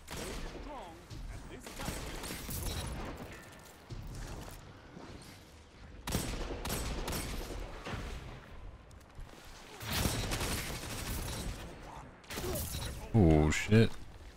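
Rapid sniper rifle shots and gunfire bursts in a first-person shooter game, several loud sharp reports spread through the stretch with mechanical reload clicks, over a player's voice talking.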